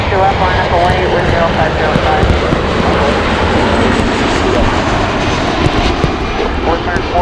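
A jet airplane takes off at Chicago O'Hare International Airport, its engines a loud, steady roar that fills the whole stretch, while air traffic control radio talk plays over it.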